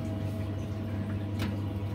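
A boiler's diverter valve activates as the hot water is turned back on, giving a steady low mechanical hum throughout with a single sharp click near the end.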